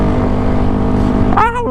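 Honda Grom motorcycle ridden by a motovlogger, its small engine droning steadily close up under wind noise, then briefly rising in pitch as the throttle opens near the end.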